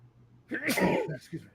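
A single sharp sneeze bursts out close by, with a brief lead-in breath and a small trailing sound afterward.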